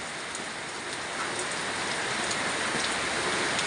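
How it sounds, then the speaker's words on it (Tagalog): Steady, dense downpour hisses continuously on surfaces nearby, loud and unbroken, with no voices. "Lakas ng ulan eh."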